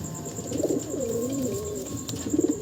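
Long-winged flying pigeons at a pigeon market in Payradanga, Nadia, coo steadily at close range. Their low, rolling calls swell twice, once early and once at the end, over a faint background hum, with no talking.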